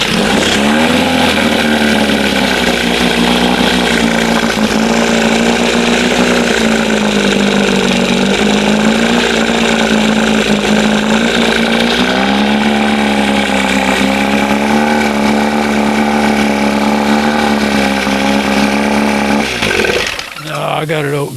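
A 1971 Johnson 20 HP outboard motor runs at idle, a loud, close, steady buzzing drone that wavers slightly in pitch midway and cuts off abruptly near the end.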